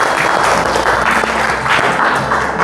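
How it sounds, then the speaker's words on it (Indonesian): A group of people clapping together in a classroom during a teaching session, a steady dense wash of applause that stays loud and even from start to finish. "Kita memberi tepuk tangan untuk kita semua."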